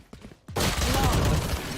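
Gunfire in a competitive shooter video game, a sudden loud burst of rapid shots that continues densely to the end, following a brief moment of quieter game sounds.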